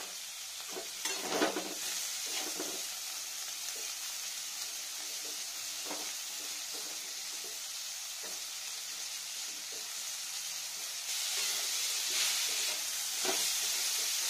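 Chopped potatoes frying slowly with spices in a pan over low heat, a steady sizzle with occasional stirring scrapes, growing a bit louder near the end.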